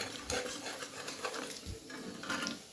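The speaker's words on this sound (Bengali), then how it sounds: "এবার আমি খুন্তি দিয়ে এটাকে একটু হালকা নেড়ে দেবো, যাতে মশলাটা ডেলা পাকিয়ে না যায়" Spices stirred in hot oil with a metal spatula while making mango pickle, giving soft repeated scraping and rubbing strokes with light metallic contact against the pan, quiet and steady throughout.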